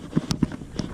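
Horse hooves clip-clop on a trail ride across open range land, a few evenly spaced, fairly close thuds at a walking pace.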